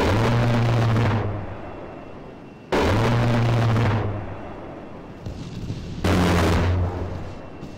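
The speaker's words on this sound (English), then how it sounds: "let's drop some bombs and watch the fireworks" Bombs dropped from an A-10C aircraft in the video game ARMA III explode three times, each a loud, deep boom with a long rumbling decay, spaced a few seconds apart.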